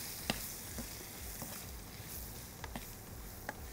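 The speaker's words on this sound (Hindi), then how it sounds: "ये हमने डाल दिया और इसे आपने फ्राई कर लिया" Oregano and red chili frying lightly in a pan for a pizza fries and chicken tomato pasta dish, a soft steady sizzle with a few sharp spoon taps and scrapes scattered through.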